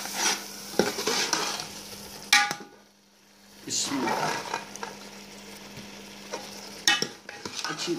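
Potatoes and peas fry in spices in a pan, with intermittent stirring, clinks of utensils against the pot and a steady sizzle, broken by a brief quiet gap; a low hum runs underneath.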